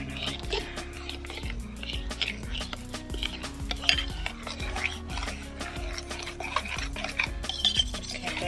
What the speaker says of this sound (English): the eggs to the banana and then the vanilla extract. Okay, and then we keep stirring it.